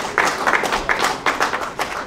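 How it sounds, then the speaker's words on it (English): A press-conference audience claps together in a continuous round of applause, close and moderately loud, with no voices over it. "I'd like everybody here to give yourselves a round of applause for attending"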